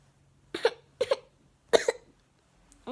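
Three short, separate coughs from a small child, fairly close, with quiet pauses between them.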